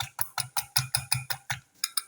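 Eggs being beaten by hand for a puffed egg, a quick, even run of about a dozen sharp whisking strokes, close and alone.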